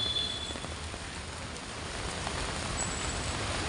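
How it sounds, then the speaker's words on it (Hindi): Heavy monsoon rain falls in Mumbai as a steady, dense hiss that fills the whole clip at an even level, with no voices heard. "बारिश लगी है, बहुत ज़ोर शोरों की बारिश लगी"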